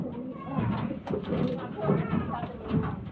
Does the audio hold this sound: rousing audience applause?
no